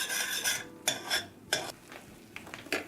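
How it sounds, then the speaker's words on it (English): Roux for macaroni and cheese is stirred in a pan, with a few distinct scraping strokes of a utensil against the metal and a faint sizzle between them, with no voices. "we're going to cook this for about a minute, stirring it constantly"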